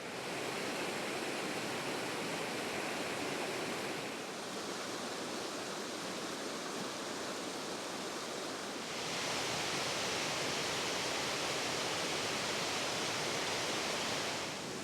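Indian Creek in the Smoky Mountains rushes just upstream of a waterfall in a steady, loud, broadband roar throughout, with no voices over the constant flow.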